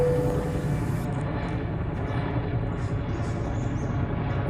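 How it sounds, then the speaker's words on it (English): A firefighting helicopter passes overhead outdoors, a loud steady rotor and engine rumble that holds for several seconds with no talking. "Okay, kind of looks like a firefighting helicopter."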